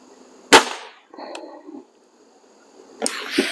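A single sharp crack from a BSA Airsporter Stutzen RB2 air rifle, loud and close, followed by quieter mechanical rustle, silence, then handling noise near the end.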